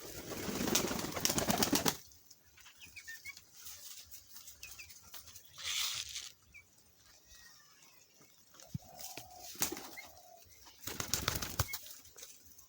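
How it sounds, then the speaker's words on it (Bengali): Pigeons at a pigeon farm in bursts of loud, close wing flapping, separated by quieter stretches with soft scattered movement and a brief low coo. "আমার কবুতরগুলো পোষ মানার মতন হয়েছে।"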